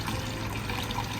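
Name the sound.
fresh mountain water running from a village fountain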